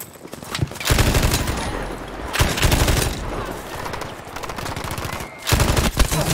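Rapid automatic gunfire from a full magazine dump in the Battlefield V shooter, loud bursts of rattling shots in several sustained strings separated by short pauses.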